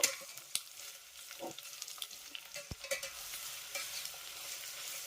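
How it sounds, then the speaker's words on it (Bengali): Onion and garlic fry over a low flame in a pan for a Bihari-style egg curry, with a faint steady sizzle broken by occasional stirring scrapes and clicks of the spoon, close up and without voices. "পেঁয়াজ আর রসুনটাকে আমি এই লো ফ্লেমে দুই থেকে তিন মিনিটের মতো একটু ভেজে নেব"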